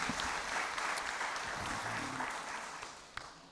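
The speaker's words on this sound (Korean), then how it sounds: "우리 다 같이 감사의 박수를 올려드리겠습니다" A church congregation at a 30th-anniversary mission service and missionary commissioning gives a steady round of applause that gradually fades, heard at moderate distance.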